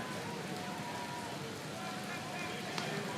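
Heavy rain pours down during a baseball game, a dense continuous hiss of falling water with a faint crowd murmur beneath.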